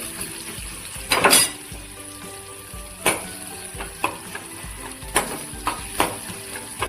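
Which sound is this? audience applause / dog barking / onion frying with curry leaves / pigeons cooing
onion frying with curry leaves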